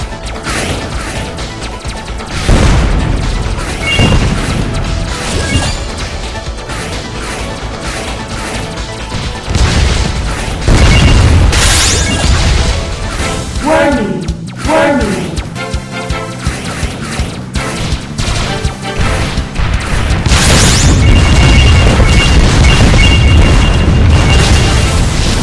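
Explosion strike attacks in the arcade shooter Winwings land as repeated loud booms and crashing blasts, dense and continuous over driving game music, with sweeping effects in the middle.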